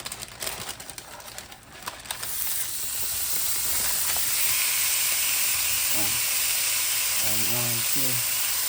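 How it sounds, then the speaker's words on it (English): Smashed mushroom cheeseburger patties sizzle in a pan with a steady, loud hissing fry that swells after a few seconds of clatter, while brief chirpy sounds pop in near the end. "And then go ahead and flip them in the pan."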